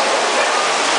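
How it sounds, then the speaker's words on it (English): An indoor waterfall and small fountain inside Seoul Express Bus Terminal give a constant, loud, even rush of falling water, close by and uninterrupted, with no talk. "This waterfall and this little fountain here."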